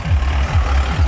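A vehicle engine rumbles loudly and steadily with a pulsing low drone as it drives along the edge of a mountain road near Kanthalur.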